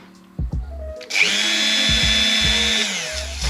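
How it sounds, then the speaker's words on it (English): A Dremel rotary tool spins up with a sharp, high whine for under two seconds, used in a garage while working on the rear subframe of an MX5, with low thumps and knocks before and after. "So we got our best friend Dremel."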